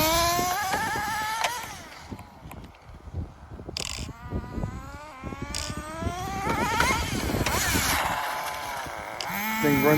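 Nitro-powered HPI RS4 RC car engine revving high and shifting through its two-speed transmission, a buzzing whine climbing and dropping repeatedly, close and loud outdoors.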